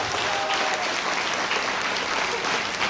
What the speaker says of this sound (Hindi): मैं चाहूंगी इसके लिए जोरदार तालियां।